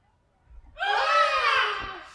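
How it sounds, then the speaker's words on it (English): A long, shrill human scream rises and holds loudly, heard alone as a staged radio-drama effect of a pedestrian struck by a tripod's heat ray. "One of the unearthly tripods let forth a mighty blast, reducing a screaming pedestrian to atoms with its heat ray."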